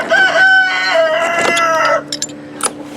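A broody hen named Becky gives loud, drawn-out tonal clucks and squawks close by for about two seconds, followed by a few short, softer clucks and rustles.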